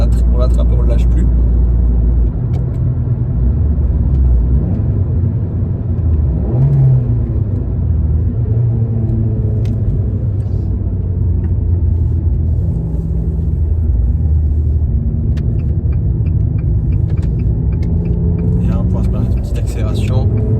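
An Abarth 595 Competizione with 180 hp accelerates, its engine rumbling loud inside the cabin with rising and falling revs, while a voice talks over it.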